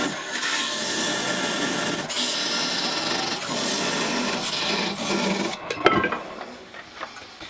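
A parting tool cuts the head off a turned wooden peppermill on a lathe, a steady dense rasping scrape that runs continuously, then breaks up near the end with a sharp knock and looser scratching.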